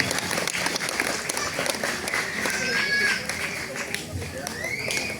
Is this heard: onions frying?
no